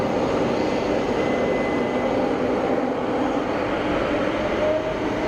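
Pilatus PC-24 business jet at Geneva airport, a loud steady jet engine roar and whine that continues unbroken for several seconds, with no talk.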